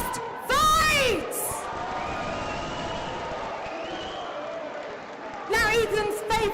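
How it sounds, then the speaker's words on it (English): Crowd at a Norwich chessboxing fundraiser event cheers and applauds for a fighter, with bursts of loud whooping at the start and again near the end and a steady hum of crowd noise and chatter in between. "let's have a big round of applause, is his first fight!"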